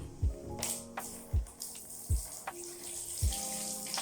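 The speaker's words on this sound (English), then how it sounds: "I'm just rinsing it off first because I need to get some of the gel out of the hair" Water runs from a tap while hair is rinsed to wash out gel, with close splashing and several soft, irregular thumps and gurgles.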